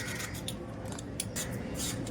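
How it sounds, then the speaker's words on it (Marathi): A raw green mango being peeled, heard as soft repeated scraping and shaving strokes of a blade on firm skin, close but quiet, with no speech. "आता आपण कैरीची साल काढून घ्यायची आहे।"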